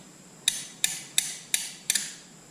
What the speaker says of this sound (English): I'm gonna try with a hammer. See if I can just knock it loose without twisting the engine.